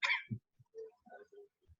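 One person coughs during an online business finance lesson. A sharp first cough is followed by a few softer, scattered throat sounds and small coughs, faint and close.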